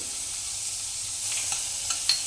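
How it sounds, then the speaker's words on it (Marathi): Butter sizzles in a hot wok-style kadhai at the start of cooking noodles, a soft continuous frying hiss with a few faint crackles and pops near the end. "कढई तापत टाकल्यावर त्याच्यामध्ये आपण बटर टाकणार आहोत"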